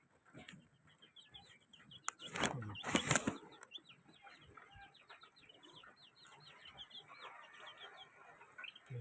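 A small flock of black chickens clucks in soft, busy chatter, with a brief burst of louder wing flapping and scuffling near the start before settling back to steady low clucking.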